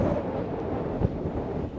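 Strong wind at a lake battering the microphone, a dense low rumble with a brief thump midway, constant and close.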